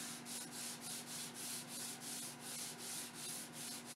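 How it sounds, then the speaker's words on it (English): Light hand sanding on a 1947 Gibson LG-2 acoustic guitar during a fret replacement, a steady rhythmic back-and-forth rasp of about a dozen even strokes, close but soft, with a faint constant hum underneath. "Then I'm going to do a bit of sanding, but just a little bit, not too much."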